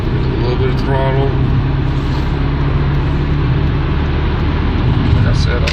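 Steady loud engine rumble of the Blue Devil car under light throttle while merging onto an interstate, a continuous low drone with road and wind noise throughout, no sharp revving peaks.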